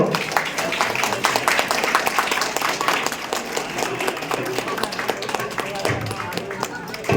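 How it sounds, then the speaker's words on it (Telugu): Loud, sustained applause and clapping from a crowd at a cake cutting during a Louis Braille birth anniversary event, dense and continuous throughout, with a voice speaking over it. "గట్టిగా చప్పట్లతో"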